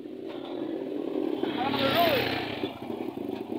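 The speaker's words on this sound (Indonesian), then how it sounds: "Motor tuh ya." A motorcycle engine revs and passes nearby, swelling to a peak then fading, heard over background chatter and a busy street.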